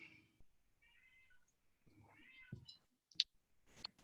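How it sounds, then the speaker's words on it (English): A pet cat meows softly several times in a quiet indoor room during an online meeting, a few faint drawn-out calls followed by a couple of sharper, louder chirps near the end. "Who's got a cat?"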